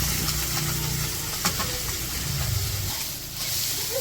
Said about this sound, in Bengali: তো মাছ ভাজা হয়ে গেছে